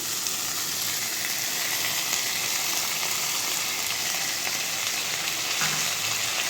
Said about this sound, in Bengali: গাজরটাকে একটু ভাজতে হবে